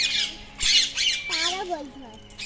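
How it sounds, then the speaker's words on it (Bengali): Several parrots let out harsh, close squawks, a rapid run of rising and falling calls packed into a couple of seconds. "প্যারট কেমন করে প্যারটগুলো ডাকছে দেখো"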